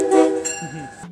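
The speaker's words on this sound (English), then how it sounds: "most units came equipped with Nathan K5 LA air horns" A Nathan K5LA air horn on a Bombardier Alstom HHP-8 locomotive sounds a chord of steady harmonic tones, then drops away into a fainter lower tone near the end.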